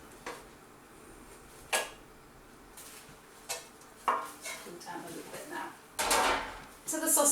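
Sausages being placed into a slow cooker for a sausage casserole, heard as a few sharp clinks and clatters of dishes and utensils at close range, spaced irregularly over a quiet kitchen background.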